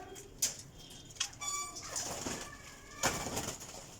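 Pigeons at a loft in Jhelum, Sarai Alamgir, with soft coos and bird calls plus a few sharp flaps or clicks, fairly quiet and close.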